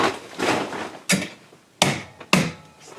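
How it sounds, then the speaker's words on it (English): A hammer taps the edges of the mounting clip tabs on a recessed can light seated in drywall, giving three or four close, sharp knocks with brief pauses between. "Hammer helps. Just tap the edges of the tabs."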